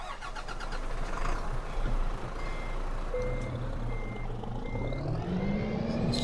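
Steady electronic reversing beeps from an Iveco truck with a steering middle axle, backing onto a heavy 95-ton trailer load in Euro Truck Simulator 2, repeating evenly over a low rumbling diesel engine that rises in pitch near the end.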